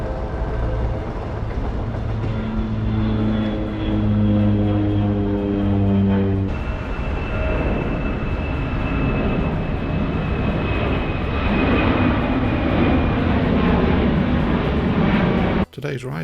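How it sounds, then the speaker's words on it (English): Steady cabin roar of an American Airlines Airbus A321, about eight years old, with a constant engine drone and hum throughout and a voice talking over it. "today's ride up to Charlotte is an American Airlines Airbus 321, which is just 8 years old"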